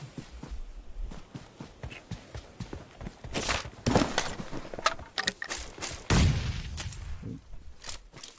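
Bursts of gunfire crack out in quick sequences amid shuffling footsteps and clatter, loud and close, with no talking.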